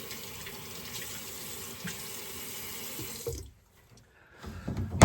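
Tap water runs steadily into a sink during a post-shave rinse of face and a stainless steel safety razor, then stops, followed by a few splashes and handling sounds up close.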